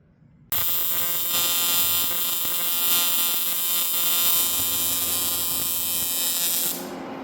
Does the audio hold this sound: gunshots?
no